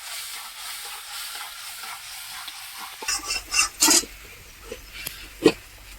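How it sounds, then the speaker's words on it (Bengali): Mango pulp in a cooking pot is stirred with a spoon, giving a soft background hiss followed by a few close, wet scraping swirls and clinks against the pot. "দিয়ে এইভাবে কিন্তু নাড়বো।"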